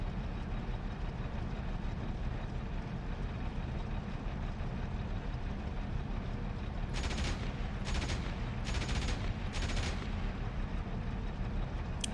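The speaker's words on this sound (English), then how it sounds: "Machine gun." Machine gun fire in the WWII combat flight simulator DCS World: short bursts of rapid shots ring out over a constant loud engine and vehicle rumble, with no talking.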